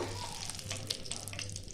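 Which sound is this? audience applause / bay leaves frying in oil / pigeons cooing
bay leaves frying in oil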